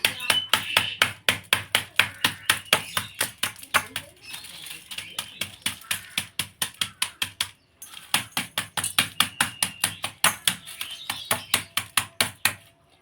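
Dry Maggi instant noodles are crushed in a steady, rapid series of crisp cracking taps, dozens of close rhythmic hits with a brief pause midway.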